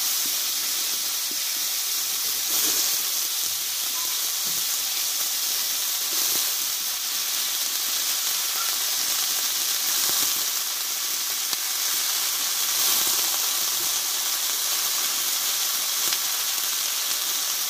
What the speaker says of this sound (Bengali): এবার কেটে ধুয়ে রাখা এঁচড়গুলো দিয়ে দেবো।